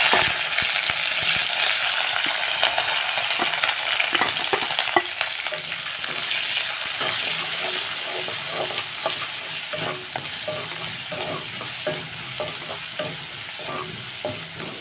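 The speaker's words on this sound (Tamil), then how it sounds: "வெங்காயம் நல்லா வதங்கி வரட்டும்" Chopped onion, green chilli and curry leaves fry in a pan with chana dal for idli upma, a steady loud sizzle running throughout with frequent spoon-stirring scrapes and clicks.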